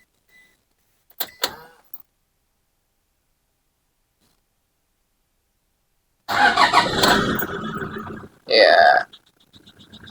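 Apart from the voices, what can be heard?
Toyota Fortuner TRD 2012 diesel engine starting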